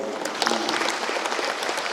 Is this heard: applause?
yes